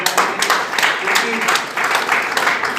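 Applause from a seminar audience welcoming a guest, a steady wash of clapping at close range that carries on without a break, with some voices mixed into it.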